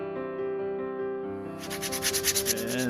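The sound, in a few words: hand sanding wood with sandpaper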